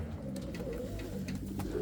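Pigeons coo softly in a breeding loft, a low steady murmur of overlapping calls with faint wing and shuffling noises throughout, with no talking.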